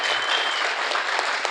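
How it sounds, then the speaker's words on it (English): A theater audience at a surf film festival shorts screening applauds the filmmakers, a loud, steady wash of clapping hands throughout. "let's hear another round of applause for the amazing filmmakers"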